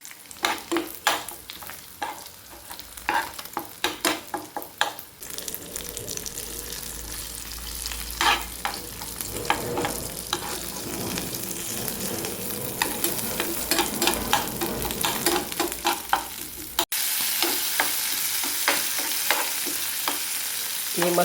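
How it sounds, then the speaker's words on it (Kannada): Masala sizzles and is stir-fried in the same pan used for hotel-style mackerel masala fry. A steady, close frying hiss runs throughout, broken by frequent scraping and tapping strokes of a spatula. "ಇದೇ ಪ್ಯಾನಲ್ಲಿ ಮಸಾಲವನ್ನು ಫ್ರೈ ಮಾಡ್ತೇನೆ"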